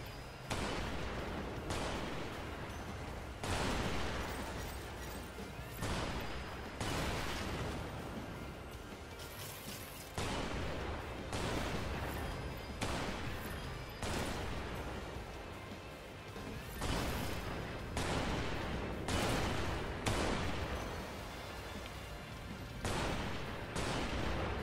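Gunfire and explosions from the flying shooter game Strike Vector EX crack out in repeated loud bursts roughly every second or two over a constant roaring background.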